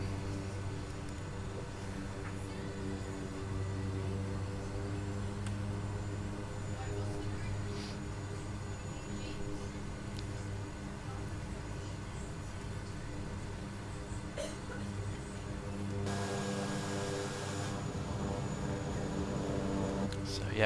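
Kodiak 100 turboprop taxiing along a bush runway in Papua New Guinea, a steady loud engine drone with tonal hum held throughout, heard from inside, with a brief shift in tone near the end.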